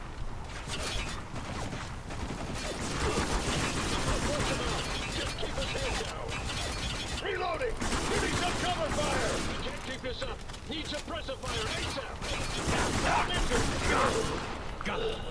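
Gunfire in the shooter game Spec Ops: The Line, heard as dense, continuous bursts of shots and clattering impacts throughout a loud firefight, with voices shouting underneath.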